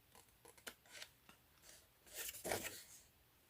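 Scissors snipping a slit in paper while making a policy envelope box, a few quiet close snips followed by a longer crisp cutting and paper rustle.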